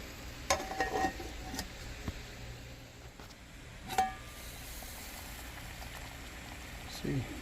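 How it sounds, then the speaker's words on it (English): Water in a kettle churns and bubbles steadily toward a boil, with occasional clicks and knocks standing out from the low rumbling hiss. "Not quite boiling yet, but she's about to."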